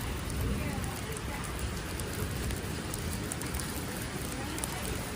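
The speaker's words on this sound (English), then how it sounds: "Look at the amount of hail." Hail pelting down during a storm in Tallahassee, Florida, a dense, continuous clatter and hiss of falling ice on surfaces, loud and steady throughout.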